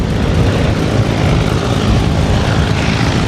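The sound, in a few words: B-17 Flying Fortress Sally B aircraft flying at air show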